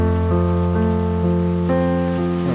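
Rain sound effect from the Tapeboy lofi plugin, a soft steady patter of falling rain mixed low beneath sustained music chords, continuous throughout with no talking.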